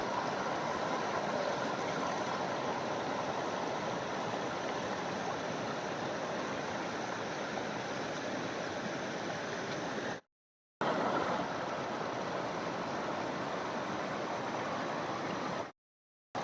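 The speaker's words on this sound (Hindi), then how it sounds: "मैया की जरा कलकलाहट आप लोग 1 मिनट के लिए जरा सुनिए" The Narmada river flowing at an ashram along the parikrama route, a continuous broadband murmur and rush of water that stays steady and fairly close, broken by two brief silent gaps.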